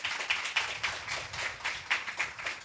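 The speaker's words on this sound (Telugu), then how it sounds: "ఒకసారి మీరు మాత్రం యేసుకి చప్పట్లు కొట్టండి చూద్దాం." Church congregation clapping for Jesus during a Telugu sermon, a fairly faint, uneven patter of hands with rhythmic peaks, heard from some distance without speech.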